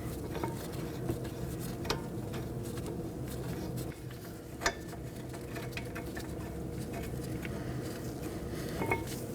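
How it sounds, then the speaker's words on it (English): A brake caliper bracket is fitted to the front rotor of a Nissan Maxima and its bolts are threaded in by hand, giving faint, sparse metallic clinks and taps against a quiet garage background. "Now I'm going to insert our brake caliper bracket in our rotor and hand thread on our two bracket bolts"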